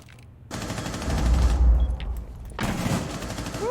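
Bursts of SMG-11 automatic gunfire in a Rainbow Six Siege-style ranked match, one long loud volley followed by a second burst after a short gap, with no talk over it.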